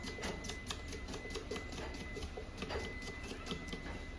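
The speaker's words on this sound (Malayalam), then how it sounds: "സവോള കട്ട് ചെയ്യാം." Onions are cut for a fish curry, giving a rapid, steady, evenly spaced tapping that carries on without a break. It sounds close and moderately loud, with no voices.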